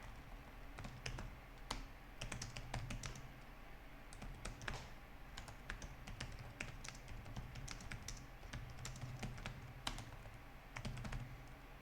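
Steady, fairly quiet clatter of keys being typed on a computer keyboard while writing code, with irregular bursts of taps and clicks and no talking.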